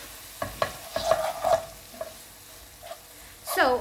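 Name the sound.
shakshouka with baked beans and turmeric cooking in pan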